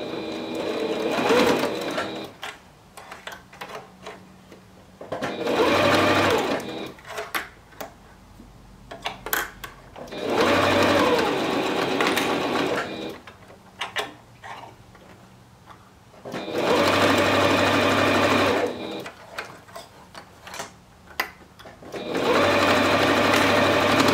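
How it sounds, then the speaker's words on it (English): A sewing machine stitches boy shorts in four long stitching bursts separated by pauses with small clicks and handling noises. "I'm going to go ahead and stitch this down."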